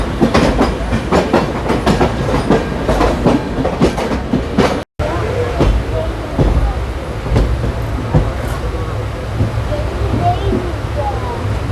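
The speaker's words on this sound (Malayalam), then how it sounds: "ചെന്നൈ സെൻട്രൽ ഹൈദരാബാദ് അല്ലേ, അല്ല അഹമ്മദാബാദ്. അതാണ് നവജീവൻ എക്സ്പ്രസ്." The Navajeevan Express, a Chennai Central–Ahmedabad train, passes close by with loud, rhythmic clickety-clack of wheels over rail joints, then a quieter rolling rumble after a brief cut, with voices talking over it.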